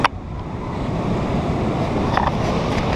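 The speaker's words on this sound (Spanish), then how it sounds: "Podemos ver un poco fuertes las olas." Strong ocean waves on a beach at Ixtapa make a steady, loud wash of surf mixed with wind rumbling against the microphone, with no talking.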